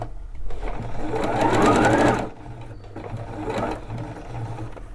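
A Bernette sewing machine runs a straight stitch while sewing a narrow rolled hem, its steady mechanical whir loud for about two seconds, then slowing to a quieter, intermittent hum with a brief pause.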